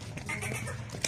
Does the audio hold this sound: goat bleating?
yes